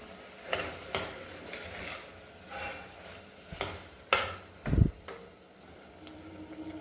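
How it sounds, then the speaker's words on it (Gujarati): Spoon stirring turmeric powder, salt and spices in a pan while making moraiya khichdi, a handful of separate scraping strokes and clinks against the metal, fairly faint and close, with a heavier knock near the end. "હલાવતા રહીશું।"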